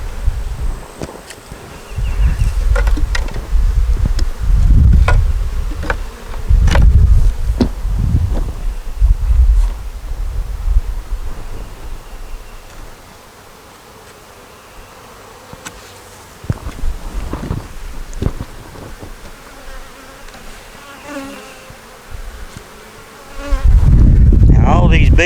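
A loud, continuous buzz of many honeybees flying close by around a hive, with wind noise and occasional rustling underneath.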